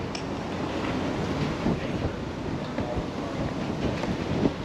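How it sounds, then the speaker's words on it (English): Gusty wind roars and buffets steadily, loud and close, with brief stronger bursts and no voices, during a fat-tire e-bike ride. "it's pretty windy out here"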